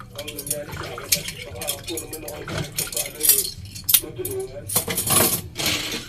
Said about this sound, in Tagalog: may hawak po akong dalawang kutsarita. So ngayon, hugasan po natin.